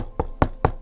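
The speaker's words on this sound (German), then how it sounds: "Mal auf Holz klopfen." Three quick, evenly spaced knocks on wood, close and fairly loud, with nothing else heard.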